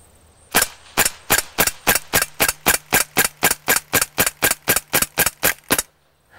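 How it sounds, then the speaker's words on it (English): An Umarex SA177 CO2 BB pistol fires about twenty sharp, evenly spaced shots in rapid succession, each a loud close crack with a short decay, in a quiet setting. "Let's go ahead and do some rapid fire shooting."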